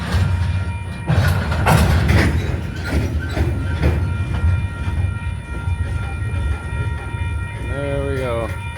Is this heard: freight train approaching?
yes